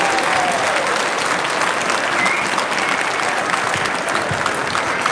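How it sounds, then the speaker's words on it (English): An audience at a school district arts showcase applauds visual arts students, a continuous dense wash of clapping from a large crowd that holds steady and loud throughout. "Please join me in giving these artists a very big round of applause for all of the work that they put together."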